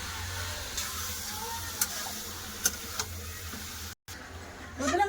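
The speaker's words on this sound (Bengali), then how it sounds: "এবার সব মাংসটা ভালো করে কষে নেবো" Spiced meat sizzles in a pan with onion and garlic, a steady close frying hiss with a few faint clinks of stirring, a brief dropout, and louder scraping near the end.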